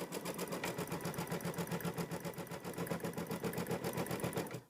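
A sewing machine stitches a placement line on a quilt, its needle tapping in a fast, even rhythm of close, steady strokes that runs throughout.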